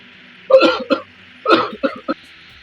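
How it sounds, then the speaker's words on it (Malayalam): A person coughs in a few harsh bursts, two close together, then a pause and a quicker run of shorter coughs, close and fairly loud. "മഴക്കാലത്ത് അങ്ങനെ ചുമക്കുന്നല്ലോ"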